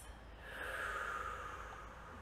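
A slow, deep breath drawn and released during a calm yoga practice, soft and close, swelling over a couple of seconds and then easing off with no talking.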